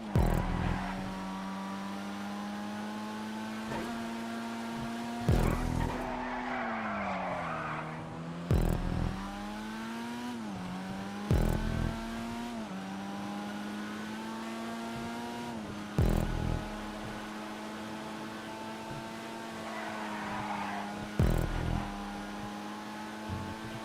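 A rear-wheel-drive car in a racing video game drives with a steady engine drone, shifting pitch, and repeated short tire-skid squeals at intervals.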